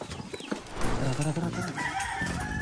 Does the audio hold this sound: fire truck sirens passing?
no